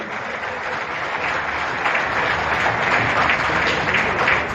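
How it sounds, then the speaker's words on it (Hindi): At a Delhi government event launching DTC buses, a large crowd claps for Canara Bank staff, loud and continuous applause that swells slightly toward the end. "तो एक बार कैनरा बैंक वालों के भी ताली बजा दो।"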